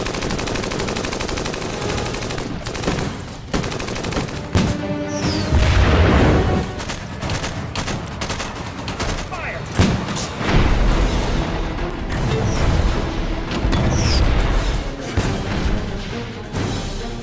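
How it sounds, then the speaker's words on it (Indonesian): Battle scene from a war film as Sherman tank cannons fire on German troops: heavy booming blasts and rapid gunfire bursts, loud and dense, with crashing impacts scattered throughout and no talking. "Maka dia pun melesatkan meriam-meriam dari tank Sherman ke arah pasukan Jerman"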